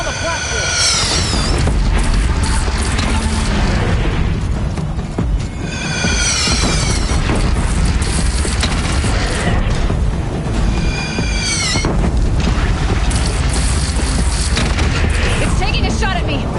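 Repeated heavy booms of cannon fire in Horizon Zero Dawn, loud and dense, with sweeping whistling sounds and a voice speaking over the barrage.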